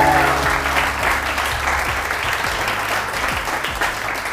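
A TV morning show studio audience applauds a guest, sustained clapping from many hands over faint background music, fairly loud and continuous.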